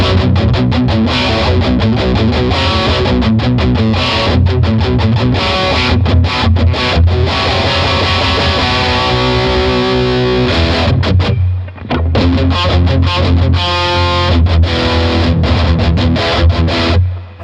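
A heavily distorted electric guitar played through a Blackstar TV10 amp plays loud, thick chugging riffs with sustained chords, briefly pausing midway before resuming at full volume.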